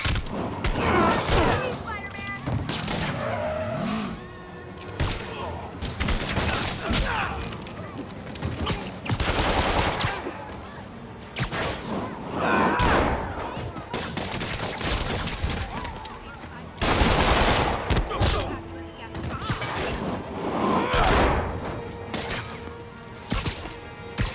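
Robbers open fire during a storefront robbery in Marvel's Spider-Man, with repeated loud bursts of gunshots, impacts and clattering mechanisms throughout, under game voices and music.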